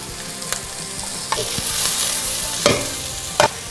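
Ginger slices fry in a pan with onions, a continuous sizzle broken by a few scraping stir strokes and clinks of the utensil against the pan, close up and with no voices.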